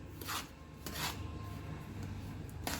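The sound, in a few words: mixing rava and maida ladoo mixture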